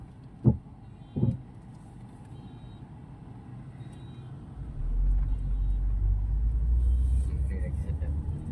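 A used car's engine on a test drive, with a low steady rumble swelling in about halfway through and holding loud and close, preceded by a couple of short knocks.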